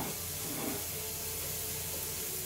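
Garlic frying in a pan for a red pasta sauce gives a steady, dense sizzle and hiss, continuous and fairly quiet, with no talking.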